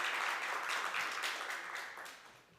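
A church congregation claps together to welcome a newcomer during a Resurrection Sunday service, a dense, steady wash of applause that tapers off slightly toward the end.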